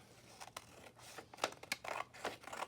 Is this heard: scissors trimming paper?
yes